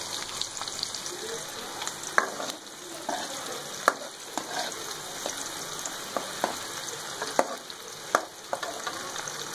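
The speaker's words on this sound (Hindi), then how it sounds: "ये प्याज और ज़ीरा सब हम इस ऑयल में डाल देंगे और इन्हें ब्राउन होने तक तैयार करते हैं, इन्हें फ्राई कर लेते हैं" Onion, cumin and chillies fry in oil in a pan, giving a close, steady sizzle with scattered crackles and occasional stirring clicks.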